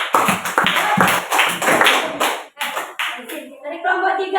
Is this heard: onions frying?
no